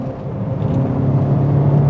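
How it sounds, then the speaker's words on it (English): Peugeot 306 GTI engine running steadily on a tight, twisting road, a low, even drone from inside the car with a slight rise in pitch, no talking. "Nice tight twisting road where you're just going between 2nd, 3rd and 4th all the time."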